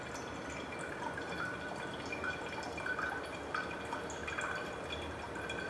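Tamari is poured slowly into a bottle in a home kitchen. A soft, continuous trickle and dribble runs with small splashy drips, close and quiet, with no voices over it.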